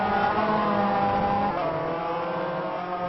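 Renault Clio Cup race cars roar in the rFactor racing simulator at Snetterton, a steady, loud engine drone with a clear shift in pitch midway, no voices.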